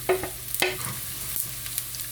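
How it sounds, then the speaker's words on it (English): Ginger and garlic fry in grapeseed oil in a pan with a steady sizzle, punctuated by a few sharp utensil clinks and stirring scrapes close by. "So I'm adding some grapeseed oil in my pan. I'm going to add in my ginger and my garlic."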